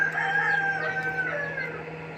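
A flock of chickens clucks and chatters continuously, several birds overlapping at close range over a low steady hum.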